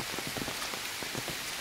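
Rain falls steadily on a large village mango orchard of about 2000 trees. It makes a close, even patter of drops on surfaces, heard alone with no voices.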